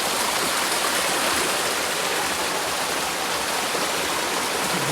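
Steady water rushing behind the speaker at a riverside spot while gathering fiddlehead ferns, a continuous broadband wash with no breaks and no voices.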